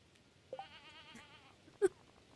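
A goat in a farming video game gives a single wavering bleat. A short sharp click follows, with no talking.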